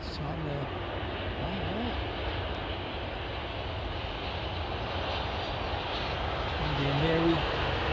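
A private jet operated for Qatar rumbles on an airport's wet runway in a steady, moderate engine roar that builds slightly toward the end, with a person talking over it.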